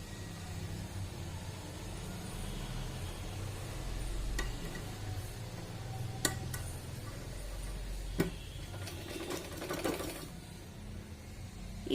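A sewing machine runs a second line of stitching over the first along a blouse neck lining, a soft low mechanical whir with faint ticking and a few sharp clicks, fairly quiet and without talk.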